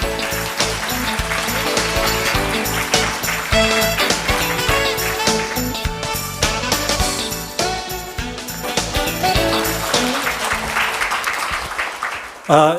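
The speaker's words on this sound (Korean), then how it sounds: "큰 박수로 맞이해 주시기 바랍니다" A large audience at a dementia management workshop claps steadily and loudly for a long stretch, with tonal sounds mixed into the applause until it cuts off.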